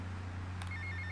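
A telephone rings inside the video game GTA Vice City: short, faint electronic ring tones over a low steady hum.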